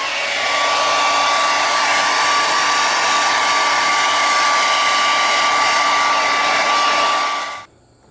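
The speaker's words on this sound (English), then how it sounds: "I'm going to blow this off with the heat gun. Or, sorry, with my blow dryer." A hand-held blow dryer drying hydro-dipped paint, a loud continuous whooshing hum with a steady whine held for over seven seconds before cutting off abruptly.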